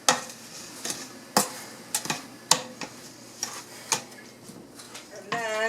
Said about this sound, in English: So we can give it a good little stir.